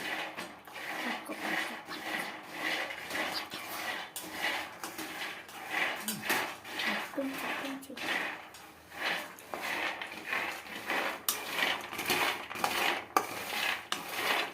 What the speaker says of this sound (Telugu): పల్లీ మొత్తం ఇట్లా వేయించుకుంటాను